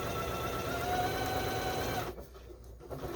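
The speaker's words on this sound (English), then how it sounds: "I just kind of like sewing it going" A sewing machine stitches across a quilt fabric panel in a steady, fast whirring run, loud and close, then stops abruptly near the end, leaving near quiet.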